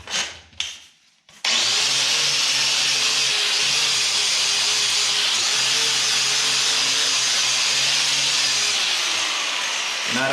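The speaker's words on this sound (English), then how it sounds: "I've got a wire wheel on my grinder, and I'm just using some simple green." A wire wheel on an angle grinder scrubs a concrete floor soaked with Simple Green, a loud continuous whirring grind with a steady motor hum after a few short bumps at the start.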